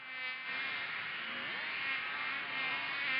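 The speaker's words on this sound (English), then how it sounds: "The buzzing of a large black puff of flies woke Patrick" Insects drone in a continuous, dense buzz, as from a swarm of flies close by, holding steady without pause.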